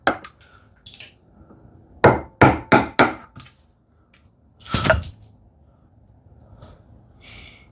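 A chisel is struck by hand while chopping wood near a shoulder line, a handful of sharp, close knocks, three in quick succession and a couple more later, set apart by quiet pauses.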